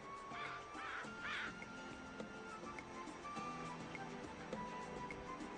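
Crows caw in a few harsh, rasping calls early on, then settle into quieter background sounds with a faint distant chirp or two.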